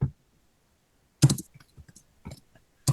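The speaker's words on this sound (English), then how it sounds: "She's typing and typing." Computer keyboard typing in short bursts of clustered key clicks, close and fairly loud, separated by brief pauses, with no talk.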